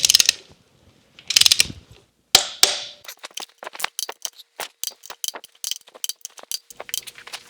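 A ratchet wrench torquing the oil filter head bolts to 25 foot-pounds on a Scout engine, a few separate bursts of clicking followed by a long run of rapid close ratchet clicks.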